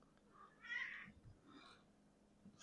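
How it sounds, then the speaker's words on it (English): A cat meows faintly in the background, giving one drawn-out call followed by a softer, shorter one over low room noise. "Fucking cat."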